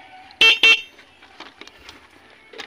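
Two short, loud honks from a motorcycle's stock horn in quick succession, followed by quiet background sounds and faint clicks.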